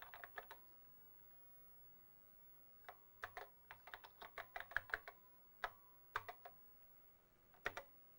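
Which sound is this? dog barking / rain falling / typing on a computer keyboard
typing on a computer keyboard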